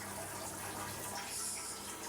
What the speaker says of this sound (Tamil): பிரியாணிக்கு கொதிக்குது பாருங்கள்